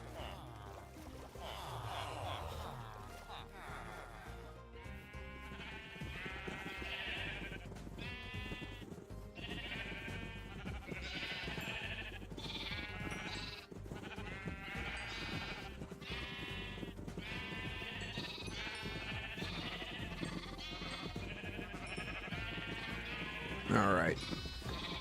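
Sheep bleating in Minecraft, several wavering bleats repeating over game music and background sounds, with someone talking over much of it.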